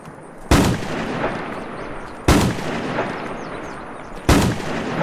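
A gun from the Domination gun pack in Unturned fires three loud, sharp shots, spaced evenly about two seconds apart, each trailing off in a short echoing tail.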